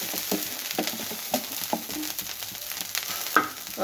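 A pesarattu, a moong dal dosa, frying in ghee on a pan, giving a steady soft sizzle with small crackles and light scraping taps scattered through, no talking.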